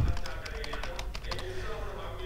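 Keys tapped on a computer keyboard while entering an email address for a GoDaddy account, a quick run of light clicks close by over a steady low hum, with a faint voice in the background.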